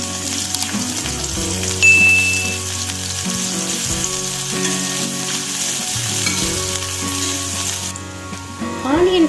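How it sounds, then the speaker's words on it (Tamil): Quarter-sliced onion frying in hot oil, a steady close sizzle with stirring scrapes running throughout under faint background music. "நல்லா ஃப்ரை பண்ணிக்கிறேன்."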